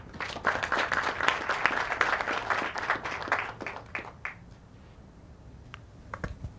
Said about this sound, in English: Let us give the chairman a better applause.